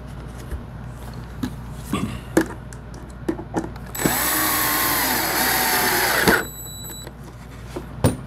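Power drill countersinking holes in a P-51 pedal plane kit, one steady whining burst of about two seconds between scattered workshop clicks and knocks.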